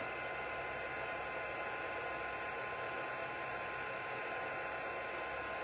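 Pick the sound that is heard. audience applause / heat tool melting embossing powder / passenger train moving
heat tool melting embossing powder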